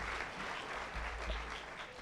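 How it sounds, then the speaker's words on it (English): A graduation crowd claps heavily and continuously in a large space, a brief, dense burst of applause with no voices standing out. "we're clapping a lot"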